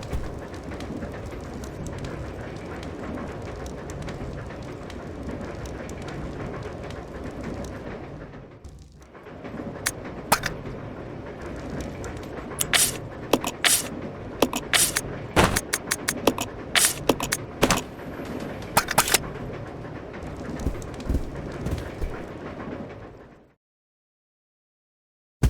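Train carriages rolling through a level of Resident Evil Zero, a steady low rumble with rattling and sharp metallic clanks bursting through in the second half before it cuts to silence.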